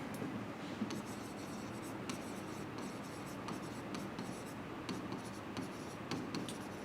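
Pen strokes writing numbers by hand on paper during an accounting lesson, a steady soft scratching with quick repeated strokes, faint and close, with no speech over it.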